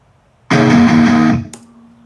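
Muted guitar chukka strums in a final chorus, played loud as a single dense burst of about a second that cuts off sharply, followed by a brief click and a lingering hum.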